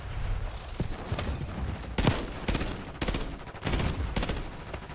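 AEK-973 rifle fire in the Black Ops 6 video game, several sharp bursts of loud gunshots spaced across the moment, close and dominant with a constant game-sound bed underneath.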